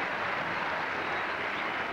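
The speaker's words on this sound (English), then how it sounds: "listen to the crowd roar." A tennis crowd roars and applauds after a service break in the 1983 U.S. Men's Clay Court Championships final between Jimmy Arias and Andres Gomez, a dense, continuous wash of cheering and clapping at steady volume.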